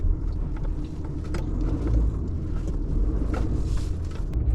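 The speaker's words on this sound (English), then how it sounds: "This truck is an absolute beast in 4x4 load." A 4x4 pickup truck climbs a grassy hill while pulling a heavy load, its engine giving a steady, close, low rumble throughout with no voices.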